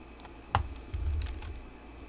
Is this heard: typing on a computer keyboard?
yes